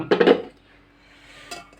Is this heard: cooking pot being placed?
yes